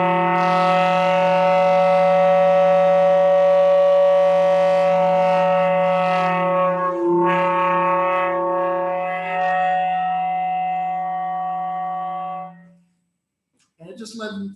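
A saxophone holding a sustained multiphonic chord, several stacked tones sounding together with a strong low note, close and loud, shifting slightly midway before fading out, followed by a brief noise.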